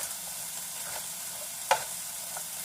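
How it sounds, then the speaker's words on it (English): Soft, steady sizzling of food frying in a pan, with a faint clink partway through. "These are over here frying up now."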